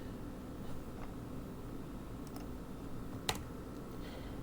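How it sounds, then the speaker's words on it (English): Sparse, faint clicks of typing on a computer keyboard during an Excel lesson, a few isolated keystrokes over a steady low background hiss. "Let me type Kamla"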